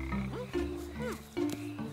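Cartoon frog croaking in a children's animated episode: several bouncy, warbling croaks in quick succession against a busy music-and-effects bed, loud and close, no talking.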